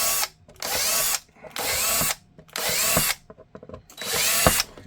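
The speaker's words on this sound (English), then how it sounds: "we're drilling this to 1/4 inch." A power drill bores a 1/4 inch hole in four loud, close bursts of whining rotation, each about a second long, separated by short pauses.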